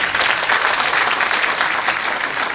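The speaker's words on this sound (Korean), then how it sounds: "박수 한번 쳐주시죠" An audience at a Korean book launch event gives a burst of steady, dense applause, loud and continuous throughout, with many hands clapping at once.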